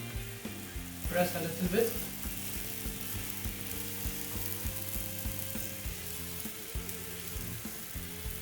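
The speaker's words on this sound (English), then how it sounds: "1 nice cube of about 15 grams of butter in. Let it cook." A calf porterhouse steak cooks in butter in a pan, giving a steady, close sizzle with scattered clicks and clatter. A voice speaks briefly over it.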